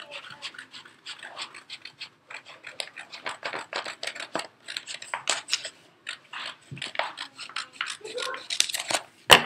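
Scissors snip repeatedly through Cricut stencil material, a close series of crisp cuts coming in quick bursts with short pauses, getting busier and louder toward the end.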